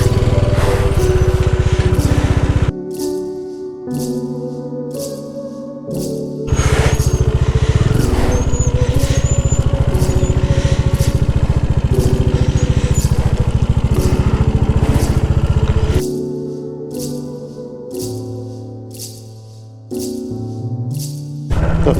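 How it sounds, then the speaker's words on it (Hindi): A motorcycle goes off-road at the foot of Mandar Hill in Banka, Bihar. Its close, loud engine drones and revs in long bursts, dropping to a lower idle between throttle pulls, with rattling over the rough ground. "चला रहे हैं बाइक"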